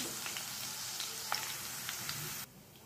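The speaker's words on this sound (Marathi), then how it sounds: "शेंगदाणे झाले की आपण मनुके तळून घ्यायचे" Raisins fry in hot oil in a short, steady sizzle with a few soft pops, cutting off abruptly near the end, with no talk.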